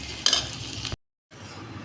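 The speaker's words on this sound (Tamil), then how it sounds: "இப்போ நம்ம சாதத்தை போட்டு கிளறிக்கலாம்" Rice being stirred into spiced brinjal masala in a pan, the spoon scraping and clinking against the metal with a light sizzle, close and fairly loud, broken by a brief gap of silence.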